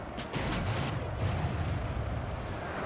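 Musket volleys from massed infantry in Napoleon Total War, a dull rolling roar of distant gunfire with a few sharper cracks early on, continuing steadily as a broad rumbling battle din.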